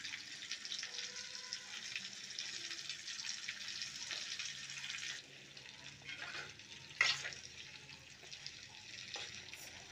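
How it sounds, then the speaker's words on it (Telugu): Stuffed eggplants frying in oil in a covered pan on a low-flame stove, a soft continuous sizzle with faint scraping and one brief clink partway through, fairly quiet throughout. "స్టవ్ సిమ్లో పెట్టుకొని వేయించుకోవాలి."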